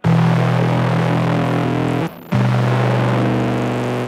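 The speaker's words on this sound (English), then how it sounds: "And I'll be using Roger That as a distortion on my harp," A harmonica runs through a Roger That distortion pedal, giving a thick, buzzing, sustained drone with gritty noise. It breaks off briefly midway, then resumes loud and steady with no voices.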